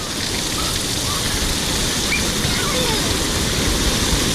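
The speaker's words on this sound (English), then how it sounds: "Got this thing up here, dumping water" A water park dump bucket pours water that rushes and splashes in a steady, continuous wash, with no pauses and no other clear sounds standing out.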